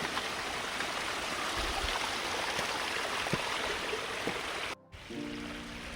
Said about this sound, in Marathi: पूर्ण वाटेमधनं पावसाचं पाणी येत आहे आता